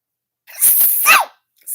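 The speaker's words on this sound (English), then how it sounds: "Yes, I did sneeze. That is a sneeze." A single sharp human sneeze, close and loud, with a quick breathy build-up and an explosive burst lasting under a second.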